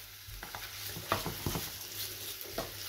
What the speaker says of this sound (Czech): v této fázi tam přidáme to maso a orestujeme si takhle ty